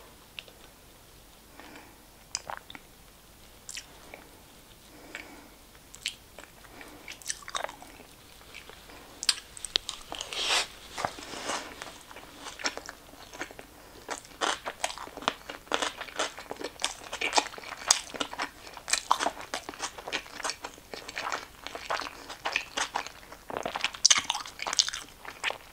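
Sushi being eaten up close, soft crunching bites and moist chewing in irregular bursts, quiet at first and growing busier and denser toward the end.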